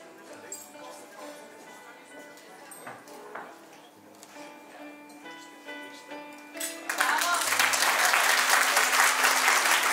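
Audience applause at a cake art awards ceremony in Bulgaria swells suddenly to a loud, dense burst near the end, following a stretch of music with a voice speaking over it.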